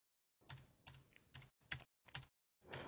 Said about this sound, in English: hit your up and down arrow keys on your keyboard